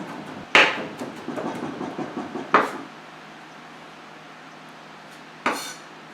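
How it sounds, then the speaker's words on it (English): A knife chops through pork on a cutting board for dumpling filling, with a sharp thud, a quick run of lighter taps, another firm chop and a last isolated strike after a quiet pause. "I'm going to take my knife and just kind of go through it. Make a nice little mince."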